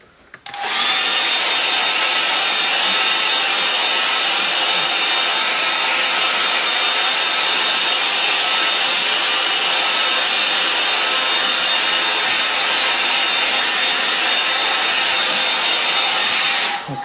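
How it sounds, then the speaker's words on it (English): A hair dryer blows steadily on wet acrylic paint, a loud continuous whooshing roar with a thin high whine that starts abruptly and runs unbroken for about seventeen seconds before cutting off. "So this is going to take a little bit longer to dry, but I'll use the hairdryer"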